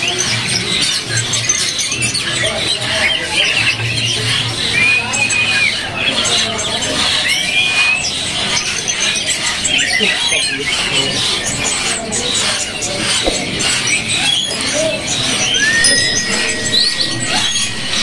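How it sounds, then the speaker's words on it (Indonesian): An Oriental magpie robin (kacer) sings at a bird seller's kiosk, giving short rising whistled notes at scattered moments over a loud, steady bed of market noise and other birds. "Ini kacer suaranya, materinya enak banget nih teman-teman"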